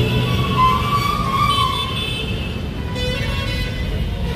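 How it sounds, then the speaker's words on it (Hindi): Heavy road traffic jam at a signal on Sanwer road near Ujjain, a steady roar of idling and creeping trucks and cars with a horn toot partway through, no one speaking. "सब भयंकर वाला ट्रैफिक लग गया है।"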